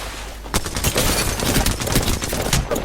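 Gunfire in the battle royale game Apex Legends, bursts of automatic weapon fire crackling densely and almost continuously for a few seconds, loud and close.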